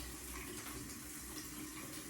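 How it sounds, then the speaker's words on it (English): Warm tap water runs steadily over a Q-tip, a close, even rushing hiss with no breaks and no speech. "run it under some warm water"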